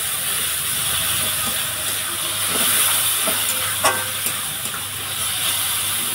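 Crab masala for a spicy Bengali crab curry sizzles and fries steadily in oil with a little water added, a close, continuous hiss with faint clicks of stirring.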